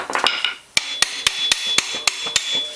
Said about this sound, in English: take a hammer and hit that, hit the end of that puller